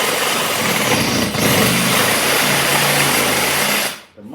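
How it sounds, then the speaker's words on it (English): A Sawzall reciprocating saw cuts into an old plaster wall, a loud, continuous buzzing rasp lasting about four seconds before stopping abruptly. "to get her done, I'm going to have to just use my Sawzall"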